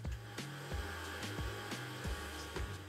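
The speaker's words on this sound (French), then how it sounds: "On commence par mixer nos flocons d'avoine." A blender grinds oat flakes in steady pulsing bursts, its motor whirring at a moderate, even level with a repeating rhythm and no voices.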